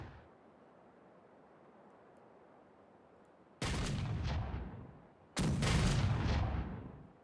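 Ship cannons firing in the pirate game Caribbean Legend: two heavy booming broadsides a couple of seconds apart, each a loud blast with a long rumbling tail, following quiet ambient sea noise.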